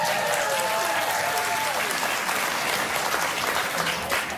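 A studio audience applauds on a daytime talk show, steady dense clapping that fills the whole stretch at high volume, with faint voices mixed in underneath.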